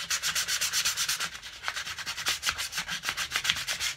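Rhythmic back-and-forth rubbing of 220 grit sandpaper on a wooden cigar box guitar neck, close and steady strokes at a quick even pace with no talking.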